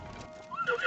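A video-game horse whinnies over the clip-clop of hooves, a short, fairly faint burst that rises toward the end.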